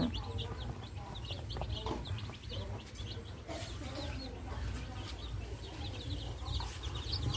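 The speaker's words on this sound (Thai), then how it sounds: "อนุบาลไก่" Burmese breed chicks cluck and peep softly in quick, repeated chirps, a small flock nearby over a low background hum.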